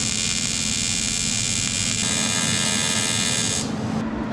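Welding plates onto a billet intake manifold for an all-motor VR6 3.6 produces a loud, steady electric buzz and hum that runs unbroken, shifting slightly in tone near the end.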